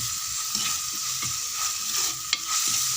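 Onions sizzling and being stirred in a clay pot, a steady crackling hiss with occasional scraping clicks, close up and without talking.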